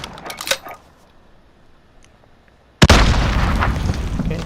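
A grenade launcher tube round fired in Modern Warfare lands and detonates into a sudden loud blast with a long rumbling tail, after a few faint clicks and quiet game ambience.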